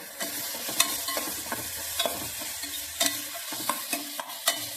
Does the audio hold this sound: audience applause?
no